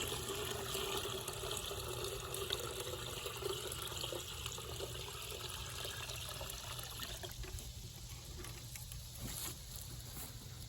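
Water running through a 10-foot pipe used to irrigate a rock garden, a steady continuous trickling rush that holds throughout, close and without talk.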